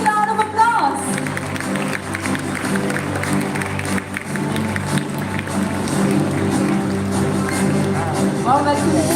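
An audience applauds to welcome a guest onto the stage at a corporate founders day event, with steady clapping under a continuous loud mix of voices and background music.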